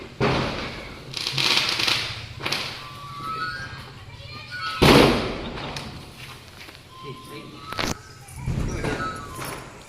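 Sharp firecracker bangs burst at irregular intervals amid children's shouting and chatter outdoors during Diwali celebrations, some pops loud and close, others fainter.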